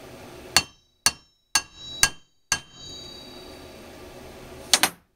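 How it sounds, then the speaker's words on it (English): Sharp metallic hammer taps ring out one at a time as a bearing is set into a pool pump motor end bell, about five spaced strikes followed by a quick double tap, each leaving a brief ringing tone. "we're going to take a hammer. We're going to tap this a few times"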